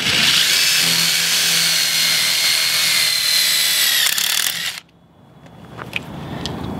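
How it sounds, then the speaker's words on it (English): A power drill bores holes for mounting a motor, a loud steady whine with dense grinding texture for about five seconds before cutting off abruptly, followed by quiet handling clicks. "So now I can go ahead and drill out my holes."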